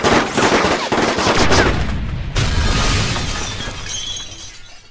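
Rapid anime gunfire in a loud, dense burst, crackling and shattering like breaking glass, sustained for several seconds before easing slightly.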